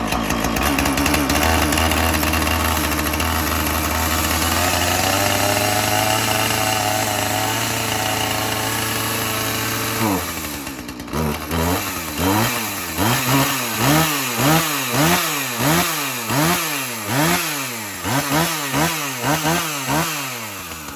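A chainsaw after a cold start runs loud and close, holding a steady high idle for about ten seconds before dropping into a rhythmic series of revving surges that rise and fall repeatedly.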